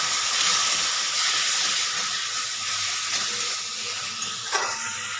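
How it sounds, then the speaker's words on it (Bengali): Spice paste frying with sugar and a splash of water for a pangas fish kalia, giving a steady, loud hiss that holds for the whole stretch, with no voices. "এতে দিয়ে দিচ্ছি স্বাদ মতন চিনি আমি এখানে সামান্য একটু জল দিচ্ছি দিয়ে মশলাটাকে কষিয়ে নিচ্ছি"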